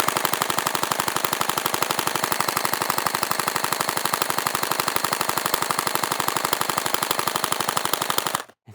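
Gel blaster toy gun firing gel balls at night in one long, rapid, unbroken automatic burst, close and steady until it stops abruptly near the end, with no talk.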